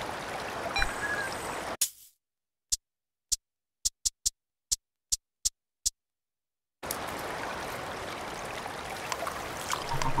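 Steady rushing creek water flows in a British Columbia stage of Cabela's Outdoor Adventures, a continuous close babble that cuts out for several seconds of near silence broken by sparse clicks, then resumes.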